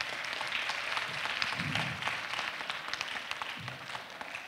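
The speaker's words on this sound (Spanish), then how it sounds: "yo pido un fuerte voto de aplausos para nuestros ingresantes." An audience at a school's anniversary ceremony claps for the incoming students, a steady, moderately loud patter of many hands with a few sharper individual claps over it.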